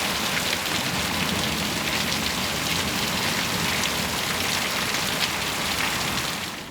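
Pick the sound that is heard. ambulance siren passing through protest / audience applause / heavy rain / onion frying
heavy rain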